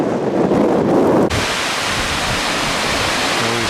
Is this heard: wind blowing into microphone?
yes